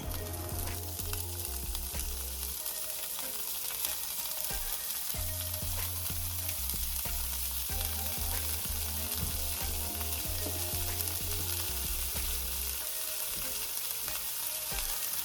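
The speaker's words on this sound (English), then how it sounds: "Continue to saute the bean sprouts and season with pepper and a little bit of salt." Bean sprouts sauté with browned garlic in a hot pan, giving a steady, close sizzle broken by scraping stirs, with a low tonal hum running underneath.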